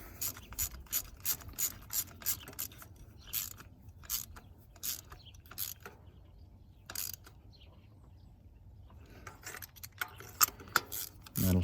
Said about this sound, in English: I'm just going to go around with the ratchet.